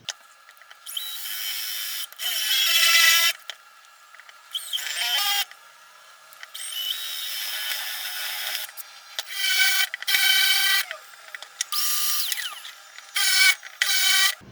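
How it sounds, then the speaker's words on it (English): Forstner bit boring holes in wood for pathtag and geocoin holders, drill run at fairly slow speed; bursts of grinding, rasping cutting alternate with short pauses, several holes in succession, close and fairly loud, no talking. "I've always been told you need to use the Forstner bits on a fairly slow speed"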